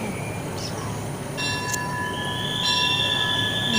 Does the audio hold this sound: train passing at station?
yes